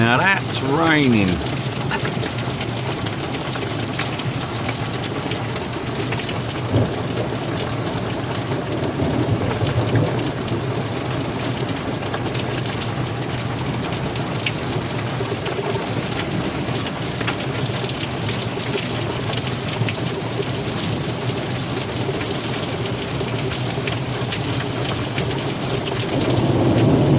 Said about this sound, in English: That's a proper storm.